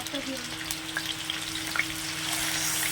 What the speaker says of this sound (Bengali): এই সাদা জিরে ফোড়ন দিলাম, দিয়ে ওই যে পেস্ট করা মশলাগুলো